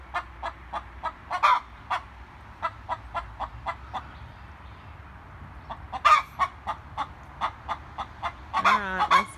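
An angry hen clucks in short, sharp, repeated bursts at a steady pace, with louder squawking flurries now and then, fairly close over a quiet outdoor background.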